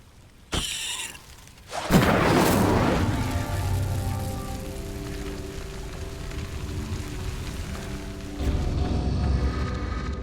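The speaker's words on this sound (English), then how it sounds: "The flames make the pyre sink." A burning pyre sinks after an Incendio spell in Hogwarts Legacy: a sharp magical crack, then a loud whooshing burst of flame that rumbles on as a steady low roar and crackle, swelling again near the end.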